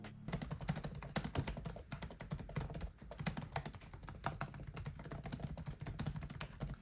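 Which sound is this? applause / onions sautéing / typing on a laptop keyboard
typing on a laptop keyboard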